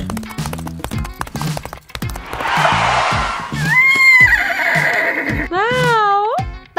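A horse whinnies loudly and close by after clip-clopping hooves and tapping sounds. A second rising neigh follows. The setting is a children's play scene with a carriage.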